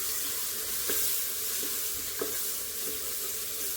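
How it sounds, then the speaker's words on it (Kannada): Tomatoes fry in a pan of spiced dal khichdi base with a constant close sizzle and a few stirring scrapes, with no voices. "ಟೊಮೆಟೊ ಸ್ವಲ್ಪ ಫ್ರೈ ಆದಮೇಲೆ"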